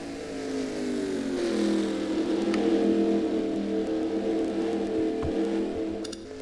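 Stock cars run laps in the Lightning Cup race, a sustained engine roar that swells and holds with overlapping revs, then eases off near the end. The sound is moderately loud and carries some distance.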